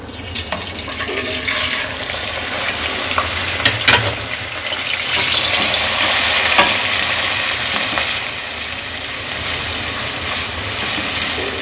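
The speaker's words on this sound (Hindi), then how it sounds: "अब हम इसको गोल्डन होने तक, मसलन लाइट गोल्डन होने तक फ्राई करेंगे।" Finely chopped onions frying and sizzling in a pan until light golden, a steady broad hiss rising and swelling midway with occasional stirring scrapes, close and loud with no talk.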